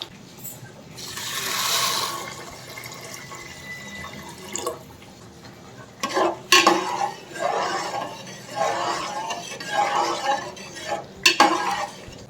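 Chicken simmering in yogurt and its own juices in a pan, with intermittent stirring and scraping of a spoon against metal, soft bursts of sizzling and clinks, fairly close and moderately quiet.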